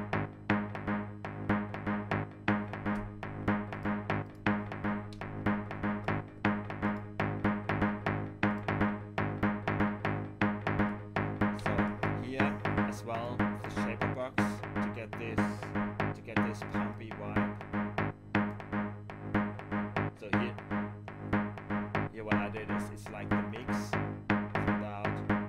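A repeating, chopped-up bass line pulses steadily through a dense, continuous musical mix, loud and rhythmic from start to finish.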